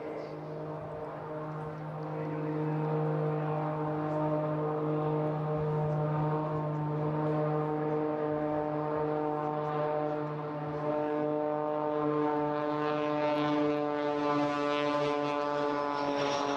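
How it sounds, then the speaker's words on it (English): A propeller-driven aircraft performing at the Eastbourne airshow gives off a sustained, droning, strongly tonal roar that holds steady and swells slightly toward the end, loud and continuous, with no voices over it. "Can you hear that most bizarre noise associated with a propeller-driven aircraft?"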